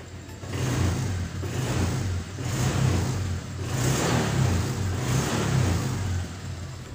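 Honda Vario 125/150 scooter engine after an ECU reset, revved in repeated swells that rise and fall about every two seconds over a steady idle, close and fairly loud with no talking.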